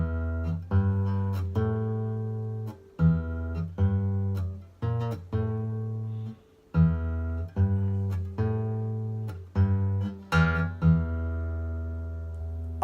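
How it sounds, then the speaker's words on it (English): Fingerpicked guitar playing a well-known riff: clear plucked note groups in the familiar stop-start rhythm, repeated across the passage, close and alone with no talk. "that riff is going to sound like this, using our fingers"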